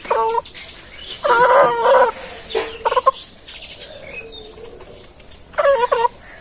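Roosters and hens brought by a trader to a village shop crow and cluck in short bursts, near and fairly loud, with quieter gaps of background noise between calls and no speech.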